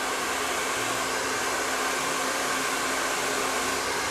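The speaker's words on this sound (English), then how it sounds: "Make sure your blow dryer is on heat and high" A hair dryer blows continuously at full power, a loud, steady whooshing hum with no pauses or voices.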